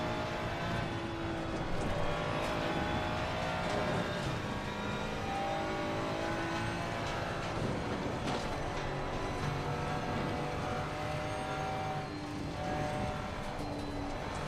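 Race car engine droning steadily at Bathurst in a racing video game, a continuous loud motor with shifting pitch and occasional revving throughout.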